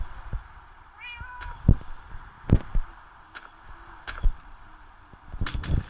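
A pet cat meows once, higher and wavering, amid scattered thumps, clicks and taps from a room during Minecraft play, close and moderately loud.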